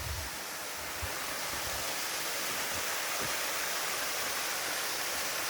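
A waterfall on the Chuck Keiper Trail at night sends up a steady, broad rushing roar, constant and fairly distant, with no talk.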